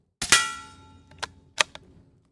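A suppressed .22 firearm firing, one sharp report with a ringing metallic tail followed by two fainter cracks or clanks, close, no talking.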